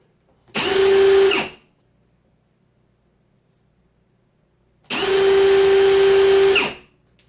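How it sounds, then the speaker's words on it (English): A power drill whirs up loudly twice, each run lasting about a second or more, with quiet gaps between; close and steady while spinning. "let's give it a try on with the drill in forward"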